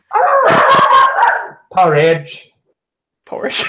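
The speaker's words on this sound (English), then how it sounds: "my dog going" A pet dog barks up close in a couple of short, loud bursts with yips, and a voice speaks between the barks.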